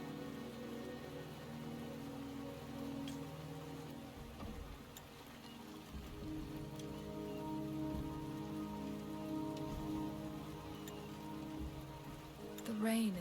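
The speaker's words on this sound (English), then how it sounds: "The rain is subsiding," Steady rain falls in the video game Wuthering Waves, a soft even patter on surfaces running throughout at low level, with a few faint ticks and a brief sound near the end.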